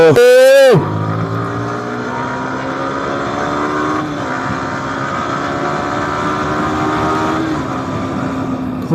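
Motorcycle engines of a Yamaha R15 V4 and MT15 V3 during a drag race, a sharp high revving burst at the start dropping into a steady loud engine drone while riding.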